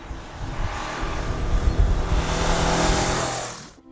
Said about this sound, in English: it's that parallel twin motor that really does add the character